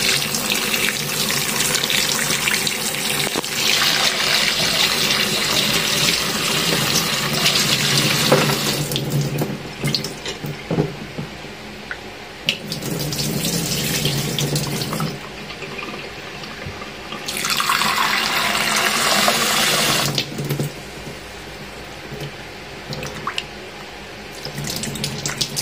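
Tap water pours into a sink to wash cordyceps flower soup ingredients such as lotus seeds, lily bulb and cashew nuts. The steady, close splashing flow rises and falls as items are rinsed under the stream and briefly moved aside.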